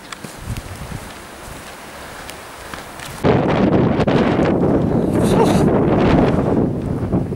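Wind gusts across the exposed hilltop of Moel Y Parc, starting as a lighter rustle then surging into a loud, steady roar buffeting the microphone, with no talking.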